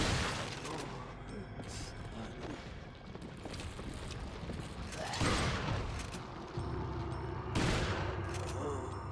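Shotgun gunfire in Resident Evil 4 (2005), several heavy blasts spaced a few seconds apart with mechanical clatter between them, moderately loud under a voice talking.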